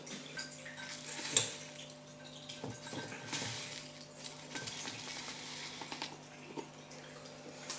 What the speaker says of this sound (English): Next is I'll be pouring used aqua soil into this fishbowl.